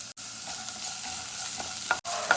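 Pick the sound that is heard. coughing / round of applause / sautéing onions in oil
sautéing onions in oil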